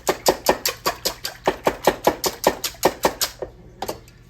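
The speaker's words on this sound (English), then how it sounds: "I'm kind of mix my egg yolks up a little here" Egg yolks beaten in a bowl with a regular, brisk run of sharp clicking strokes, about four per second, close and loud, then a pause and a couple of final taps.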